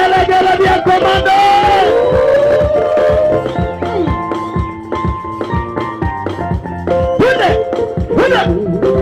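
Crusade crowd at Keumbu market ululating loudly, layered high trilling cries and shouts overlapping in waves for several seconds, close and energetic with brief dips before swelling again.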